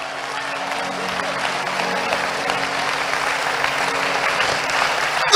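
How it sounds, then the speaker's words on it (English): Steady, dense applause from a large church congregation, continuous and fairly loud throughout, swelling slightly at the very end. "I don't like the clapping."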